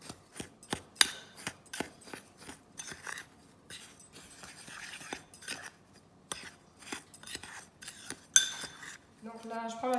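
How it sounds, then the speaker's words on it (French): Spoon stirring icing sugar and cornstarch in a bowl, rapid clinking taps of metal on the bowl in quick irregular bursts, close and fairly loud, ending with a short tonal beep. "je remue le tout"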